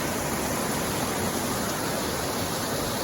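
Multi-tier waterfall of about fifteen tiers in the Smoky Mountains, a steady, loud, broadband roar of rushing water that holds constant throughout with no breaks.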